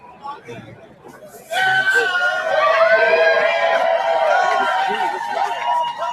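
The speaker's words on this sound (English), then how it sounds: "The cheering that you keep hearing is from protesters popping champagne and shooting it up in the air" Street protesters cheering and shouting in a lively crowd as champagne bottles are popped and sprayed into the air, a loud sustained roar of voices and whoops that swells suddenly after a quieter murmur of chatter.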